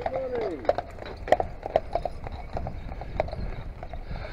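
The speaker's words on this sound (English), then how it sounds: "I've passed that horse wagon on its tour." Horse hooves clip-clopping from a horse-drawn wagon on a road, a steady series of sharp, close clops, with a whistle-like squeal early on and some talk underneath.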